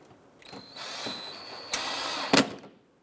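A power tool snugging down the mounting screw of a parking assist sensor on a 2010-2016 Cadillac SRX, a short high-pitched motor whir rising over about two seconds with a couple of sharp bursts near the end.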